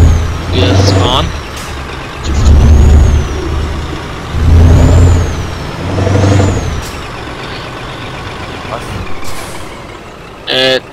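A heavy truck in Euro Truck Simulator 2 drives with a deep diesel engine that repeatedly swells and fades as it revs through gears, followed by brief air-brake hisses and clicks near the end; people talk over it at times.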